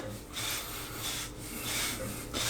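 A boar hair brush drawn through a beard in several slow, close rubbing strokes, a soft bristly rasp rising and falling with each pass.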